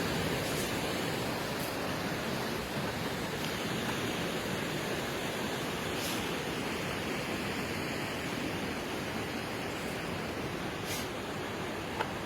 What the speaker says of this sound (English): That's the waterfall.